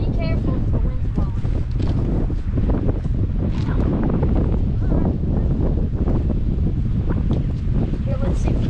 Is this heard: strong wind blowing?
yes